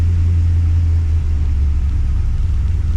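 A Holden VX SS Commodore with a rebuilt 4L60E automatic transmission moving slowly in gear, a loud, steady low engine rumble and drone with no talk.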